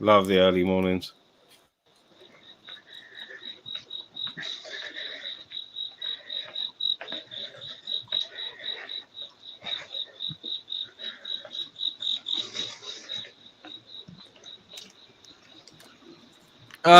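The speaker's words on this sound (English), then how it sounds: "Oh, nope, that's crickets." Early-morning crickets chirp in a steady, rapid pulsing train at moderate distance, running continuously for over ten seconds, with faint scattered outdoor sounds around them and brief voice fragments at the very start and end.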